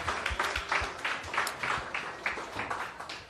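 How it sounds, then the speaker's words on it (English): Applause from an audience at a talk-story evening during the Sunset Beach Pro surf event: dense, steady clapping from many hands, moderately loud, sustained throughout with small swells. "give a round of applause for Jody Wilmot"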